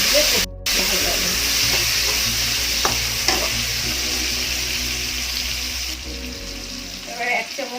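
Whole medium tomatoes fry and sizzle loudly in a pan beside prawns and green banana, a close steady hiss with spatula stirring scrapes and clinks, a brief cut near the start and the sizzle dropping away toward the end.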